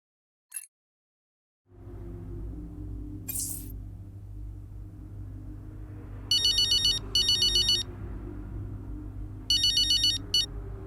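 A telephone ringtone rings in the F1 23 racing game's Breaking Point 2 story mode, two bursts of quick electronic trilling pulses repeated twice, heard over a steady low engine-like hum after an initial click.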